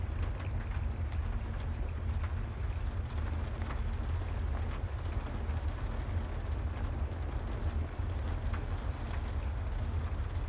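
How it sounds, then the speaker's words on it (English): Heavy rain pours outside in a constant dense hiss with scattered droplet ticks and a deep low rumble, steady for the whole stretch with no voices. "The rain outside sounds heavier now."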